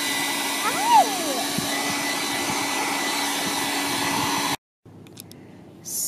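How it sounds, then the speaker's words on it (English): A hair dryer blows on a wet Scruff-A-Luvs plush toy, a steady loud whirring drone that shuts off abruptly near the end, leaving faint rustling. "So we're drying it and fluffing it at the same time."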